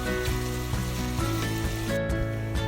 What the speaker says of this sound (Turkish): 5 dakika orta ateşte hepsini beraber kavuruyorum